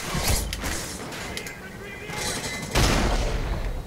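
Heavy bursts of gunfire and explosions in Call of Duty: Ghosts, loud and continuous with surging blasts, mixed with in-game voices.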